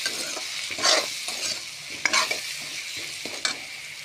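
Frying food stirred in a pan just after salt goes in, for a Bengali ash gourd and lentil fritter dish: a steady close sizzle with several brief scraping stirs every second or so, and no voices.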